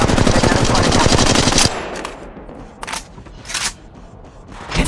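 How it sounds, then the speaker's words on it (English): Rapid automatic gunfire from an Apex Legends match rattles loudly for a couple of seconds, then stops, followed by a few scattered distant shots and clanks with faint voice lines underneath. "Opening fire"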